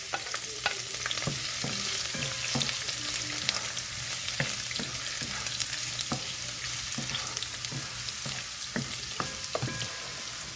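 Garlic frying in oil in a pan for Filipino pork pastel, with a steady, busy sizzle throughout and repeated clinks and scrapes of a utensil stirring against the pan.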